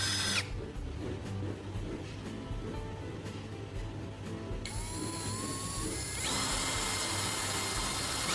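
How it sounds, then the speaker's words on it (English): An electric drill bores a hole straight through a wooden handle, a continuous whirring grind that shifts pitch partway through and rises as the bit cuts, heard alone at moderate level. "First, we'll drill a hole straight through the wooden handle."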